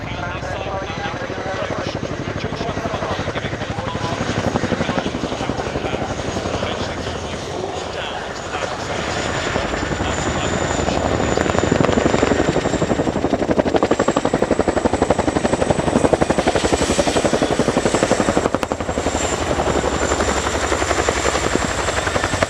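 A Royal Air Force Chinook HC.6 twin-rotor helicopter in a flying display at RIAT, with steady loud rotor thudding and a turbine whine that swell as it passes close, while an announcer speaks over it.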